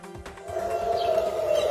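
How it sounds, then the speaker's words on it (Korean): An air raid siren sounds at a zoo during armed conflict between Israel and Palestine, a steady rising wail that swells and holds loud for under two seconds. "평화로운 동물원의 정적을 깨는 공습 사이렌이 울려 퍼지는데요"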